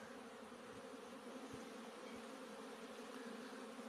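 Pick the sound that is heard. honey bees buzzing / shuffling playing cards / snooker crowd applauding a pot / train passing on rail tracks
honey bees buzzing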